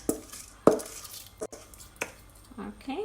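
Lamb pelau in a pot gets washed rice stirred in, with a few scraping clatters of a spoon against the pot spaced across a few seconds, close and moderately loud, with a brief spoken word early on.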